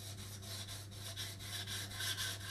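Chef knife is drawn over a coarse sharpening stone while setting a bevel, a quiet rhythmic rasping of repeated strokes, about two per second.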